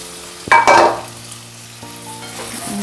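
Chopped tomato goes into a pan of browning onion for a Marathi-style paneer bhurji, and a sharp burst of sizzling flares up near the start before easing into a steady, moderate frying hiss.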